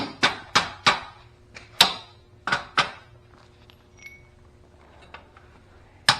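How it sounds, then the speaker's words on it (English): A piece is tapped into a rotting Honda GL1000 motorcycle frame with a hammer, giving a run of sharp, close metallic knocks in quick groups followed by a few sparser taps at a moderate level. "Tap this piece in."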